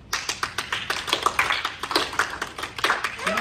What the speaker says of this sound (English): Everyone's kind of like scattered applause.